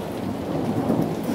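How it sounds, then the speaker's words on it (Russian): Thunder rolls during a rainy May thunderstorm on Crete, Greece: a continuous, loud, deep rumble blended with the dense hiss of falling rain, with no voices. "О, видите, гроза какая."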